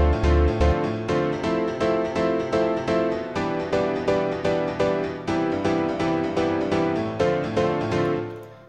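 Piano house track built in Logic Pro X plays back loud and steady: repeated piano chord stabs over a pumping four-on-the-floor beat with deep bass, continuous and alone with no talking.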